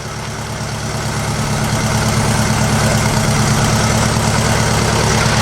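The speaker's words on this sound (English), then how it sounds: "This engine is still shaking, and it doesn't sound right to me." A 1956 VW Beetle engine idles with a misfire, a steady, low rumbling drone and continuous vibration, running close and loud with a slightly uneven texture throughout.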